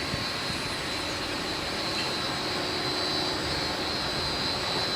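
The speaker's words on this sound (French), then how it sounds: "derrière on a un moteur, on a une pompe, et donc on retrouve ici toute la batterie" A bank of pumps and motors for a new aquatic leisure pool runs in a plant room beneath the pool, producing a constant, loud mechanical whir and hum with a steady high whine, no voices.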